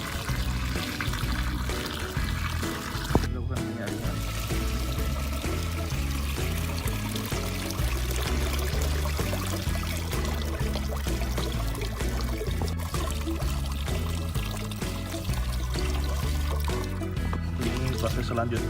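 Liquid Trichoderma mixture being poured in a steady continuous stream for homemade biopesticide, splashing and filling for a long stretch beneath background music and a talking voice.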